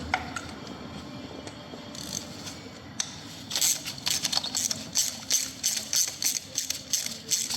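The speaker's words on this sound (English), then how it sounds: "quarter drive, short socket gets in there lovely" A quarter-inch-drive ratchet with a short socket tightens a bolt on a Renault Clio engine during head gasket work, giving rapid, close clicking bursts in a repeating rhythm after some quieter metallic fiddling at the start.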